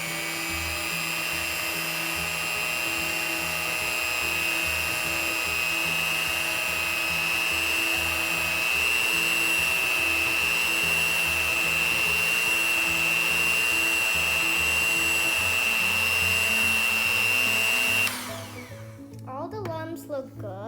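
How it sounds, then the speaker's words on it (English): An electric mixer whirs steadily through cupcake batter with milk just added, a loud high-pitched motor hum running close for about eighteen seconds before cutting off, with a voice briefly at the end. "So I'm gonna mix it a little more after I added the milk."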